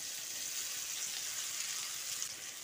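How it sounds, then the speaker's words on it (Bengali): Yardlong beans and potato fry in a pan with a soft, even sizzling hiss that holds steady throughout, quiet and close with no voices. "বরবটিটাকেও আলুর সঙ্গে খানিকক্ষণ নেড়ে চেড়ে ভেজে নিচ্ছি।"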